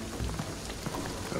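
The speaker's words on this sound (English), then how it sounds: "the rain is gonna flood tonight" Heavy rain falls steadily on a surface at a stormy night, a dense close wash of drops that carries on without pause for the whole moment.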